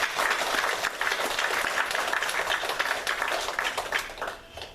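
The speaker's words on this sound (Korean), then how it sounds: "우리 크게 박수 한번 하도록 하겠습니다" A church congregation applauds together during a Sunday service, steady dense clapping that fills the room for several seconds before tapering off at the end.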